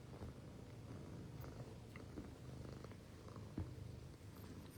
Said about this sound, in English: My other cat, Misty, has come up.